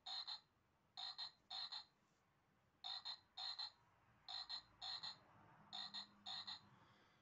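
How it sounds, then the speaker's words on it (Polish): Bright, buzzy croaking repeats in short bursts of two or three, with pauses between, clear and close against a quiet background, like a toy frog. "Lekko dotkniecie tej żaby i ona właśnie rechocze."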